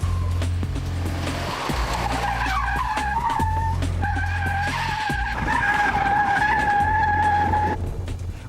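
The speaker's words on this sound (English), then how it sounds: "the second challenge our contestants had to face was controlling a skid" A car skids through a driving challenge with loud, sustained tire squeal rising and falling in pitch over a steady engine drone, the screech running almost continuously for several seconds.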